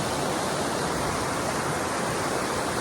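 Steady rushing water streams in at Goutameshwar Mahadev temple, a loud, unbroken hiss and roar of flow heard up close and alone for a few seconds.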